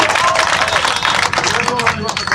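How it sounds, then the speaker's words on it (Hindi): An audience claps at an anti-addiction campaign gathering in Malegaon, brisk uneven applause mixed with crowd murmur and voices, fairly loud and close throughout. "तालियां बजाए हाजरीन"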